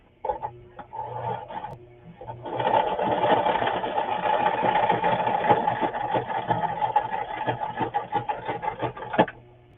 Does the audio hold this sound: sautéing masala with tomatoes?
no